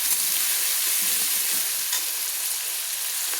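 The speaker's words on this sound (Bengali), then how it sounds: "দেখুন আমি লাল লাল করে ভেজে নিচ্ছি" Sliced onions fry in a pan until reddish-brown for chicken do pyaza, giving a close, steady hiss and crackle of sizzling oil that runs without pause.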